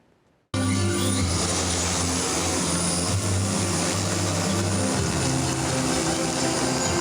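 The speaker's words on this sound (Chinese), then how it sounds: "中华邮政的无人机看看起飞" A Chunghwa Post cargo drone able to carry 25 kg starts up for takeoff at a launch ceremony in Jianshi Township, Hsinchu County. A loud, steady propeller drone cuts in abruptly after a near-silent moment and keeps droning close by.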